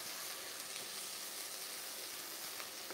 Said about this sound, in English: I'm caramelizing my onions a little bit.